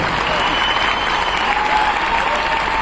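Continuous clapping from a crowd, dense and even for the whole stretch, with a hint of voices underneath.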